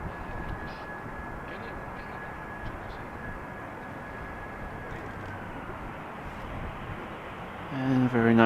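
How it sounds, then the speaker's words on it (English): An EasyJet Airbus A319 arriving from Geneva lands on runway 18R at Amsterdam Schiphol, a steady broadband engine roar held throughout, rising louder near the end. "little A319 coming in from Geneva. From EasyJet."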